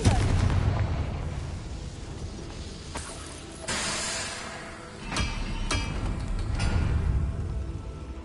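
Fiery Confringo spell blasts in Hogwarts Legacy on PS5, a few sharp booms and crackling bursts spread across the stretch, with a rumbling hiss between hits and no talking.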